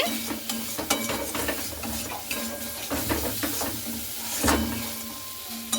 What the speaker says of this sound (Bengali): ওল ভাজাটা দিয়ে খুব ভালো করে এখানে আমি নাড়াচাড়া করে নিচ্ছি